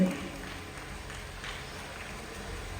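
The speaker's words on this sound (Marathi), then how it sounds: "जोरदार टाळ्या" Crowd applause at a children's school prize show, a dense, steady patter of many hands clapping that continues for about three seconds at moderate loudness.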